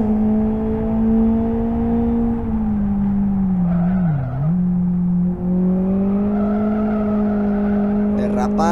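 Sustained tire squeal from a car drifting in the racing game Live for Speed, a loud continuous tonal screech that dips and wavers in pitch over engine drone, with a voice talking over it.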